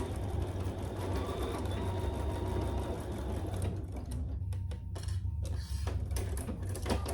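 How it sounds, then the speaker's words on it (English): A sewing machine runs continuously along the edge of a clutch, its steady whirring stitch giving way to a few sharp clicks and taps as it stops. "now we're just gonna stitch those and stitch that in place"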